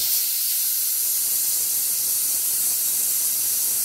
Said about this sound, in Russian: Чтобы быстрее выпустить пар, можно подставить вот так вот ложку.